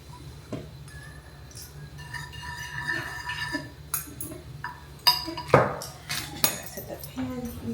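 A metal fork clinks and scrapes against a pan while stirring oil with red pepper flakes, giving scattered close taps and chinks against quiet background noise.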